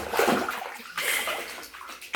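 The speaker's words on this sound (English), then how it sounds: "is getting his first bubble bath" Water splashes and sloshes in a baby's bathtub during an infant's first bubble bath, with broadband splashy bursts rising and falling over about two seconds, fairly close and unaccompanied by speech.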